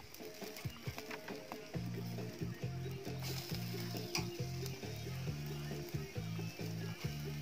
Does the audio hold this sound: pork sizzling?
yes